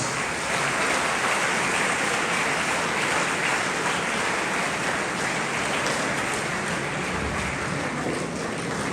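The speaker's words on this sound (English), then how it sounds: "Let's give him a round of applause." Audience applause at a school silver jubilee celebration honouring a retiring teacher, dense continuous clapping from a large crowd, steady and loud for the full nine seconds with no voices.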